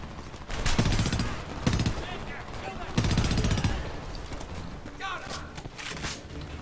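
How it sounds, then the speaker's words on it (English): Enemy gunfire in the video game Homefront: dense bursts of automatic shots and fusillades rattle loudly and keep going steadily, while a voice talks over the shooting. "How the fuck are they shooting me, and from where?"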